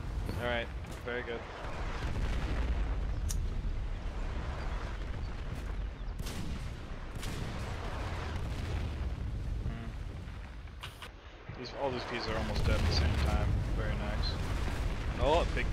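Artillery fire in the war game Foxhole, with heavy booming blasts and rumbling low-end impacts filling the clip alongside radio-style voice chat from players.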